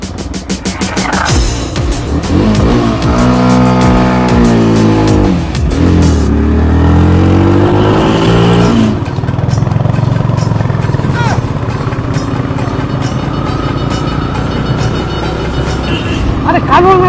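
A newly bought motorcycle revs up, its engine pitch sweeping upward and then dropping in loud, close bursts, with voices talking over it and a running engine continuing underneath.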